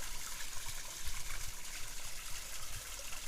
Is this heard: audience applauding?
no